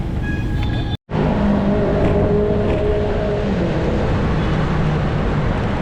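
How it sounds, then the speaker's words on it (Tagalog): Dense road traffic along Roxas Boulevard near Luneta in Manila: a loud, continuous roar of engines and tyres close by, with a brief dropout near the start and no talk. "Kaya traffic na ulit."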